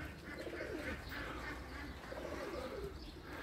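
Racing pigeons cooing and calling around their loft after a 10 km training flight, a steady busy chorus of bird sounds with a faint hint of wing flaps.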